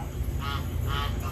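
Goose from a local feed store honking in a backyard flock, two or three fairly loud nasal calls close by over a steady outdoor background, no talk.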